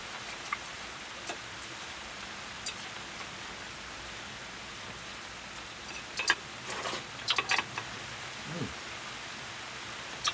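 Rain falls on a wooden sailing dinghy during a cruise, a faint steady patter with scattered sharper drops ticking on the boat, quiet and close with no talking.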